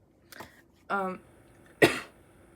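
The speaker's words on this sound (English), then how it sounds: "I have a horrible cough" A few harsh coughs close to the microphone, three short bursts spaced apart with quiet gaps between them.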